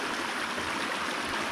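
Water of Chinnacup Creek flows steadily nearby, a dense, even rushing and gurgling wash with no talk over it.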